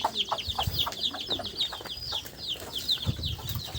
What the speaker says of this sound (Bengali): ছোটো ছোটো মুরগির বাচ্চা।